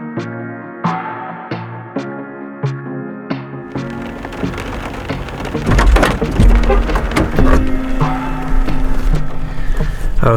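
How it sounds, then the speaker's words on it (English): Rain falling outdoors after brush burning, beginning as a few plucked notes and then swelling into a steady, loud wash of rain hitting surfaces, with scattered heavier drops and spatters close by. "now that she's done, it started raining"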